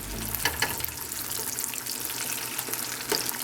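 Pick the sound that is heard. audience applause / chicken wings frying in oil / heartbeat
chicken wings frying in oil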